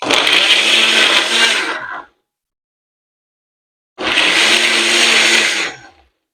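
A kitchen blender on its smoothie setting runs in two loud bursts of about two seconds each, roaring with a grinding whir, separated by a couple of seconds of silence as it cycles off and on by itself.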